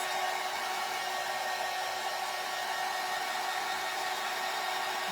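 A hair dryer blows steadily on decoupaged rice paper laid onto a vintage surface, a constant close, even whoosh with a faint steady hum and no variation for several seconds.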